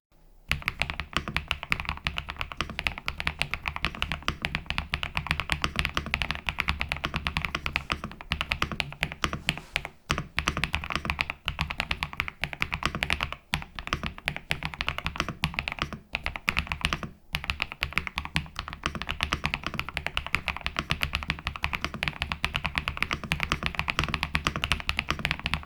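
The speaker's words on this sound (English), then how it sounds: "A soft cushion talky sound profile" Steady continuous typing on an EPOMAKER RT85 mechanical keyboard with a soft, cushioned, thocky profile, dense rapid keystrokes close up with a few brief pauses, no voices.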